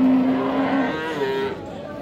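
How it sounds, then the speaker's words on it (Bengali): A Friesian cow at a busy cattle market in Dinajpur gives a long, loud, wavering moo that trails off and then rises again briefly, close by over steady crowd murmur. "এই গরুটি।"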